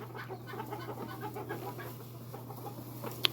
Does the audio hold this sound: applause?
no